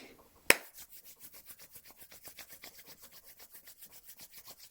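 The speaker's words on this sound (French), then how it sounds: "on frappe nos mains l'une contre l'autre et on va les frotter jusqu'à ce que ce soit complètement chaud" A single sharp clap of the hands opens, then palms rub vigorously together in fast, even strokes, a close, dry swishing that repeats steadily and keeps going without pause.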